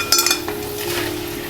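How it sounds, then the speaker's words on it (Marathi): Prawn masala sautéed with salt in a pan: a few quick metallic clinks and scrapes of a spoon against the pan over a soft sizzle, brief and close. "मीठ घालून आपण जरासं परतवून घेऊया।"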